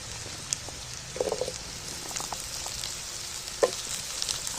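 Cut potatoes for a chicken recipe drop into a pan of hot oil with onions, giving a steady close sizzle punctuated by a few sharp pops and stirring clatters, without speech.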